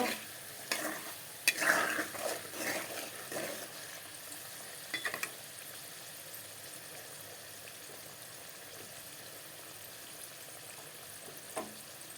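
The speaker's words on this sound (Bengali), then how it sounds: "দেখো আলুগুলোকে লাল লাল করে ভেজে নেব" Salted potatoes with turmeric fry in a pan until browned, with a quiet sizzle and a cluster of spoon scrapes early on, then mostly a faint steady hiss with one late clink.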